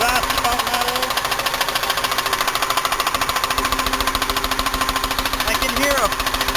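Buick 3800 engine idling with its valve covers off, a loud rapid rhythmic ticking and knocking over a steady mechanical drone throughout, with someone talking briefly over it.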